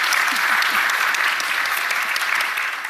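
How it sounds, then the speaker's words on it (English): Steady applause from a conference audience for a business panel at a live event, dense and sustained clapping throughout, tapering slightly at the end. "can we just give them another huge round of applause for joining us here today?"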